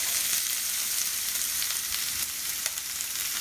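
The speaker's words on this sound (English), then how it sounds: "I can see it starting to smoke, so it's time to add my chopped vegetables." Chopped vegetables sizzle loudly in smoking-hot oil in a saute pan, a dense steady frying hiss close up with a few soft stirring bumps and no talk.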